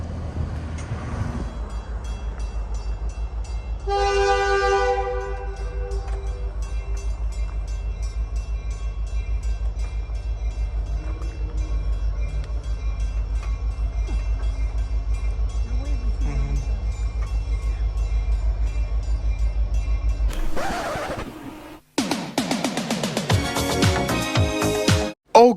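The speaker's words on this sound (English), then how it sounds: "when I was trying to film the spray train heading south" A CN weed spray train rumbles past in a long, steady roar, sounding a loud horn blast early on, then louder wheel and car clatter near the end.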